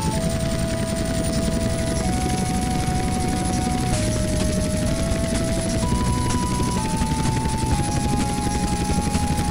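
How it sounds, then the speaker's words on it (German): Helicopter from GTA San Andreas flies during a pilot-training landing, its steady rotor drone and whine constant and loud, with a shifting tonal hum over the top and no talk. "Den Heli landen, das wird das leichteste sein."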